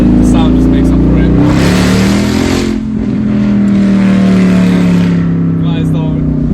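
A Mercedes-Benz E55 AMG W211 sedan's engine revs loud and close, a deep throaty roar rising and dropping through downshifts with crackling bursts.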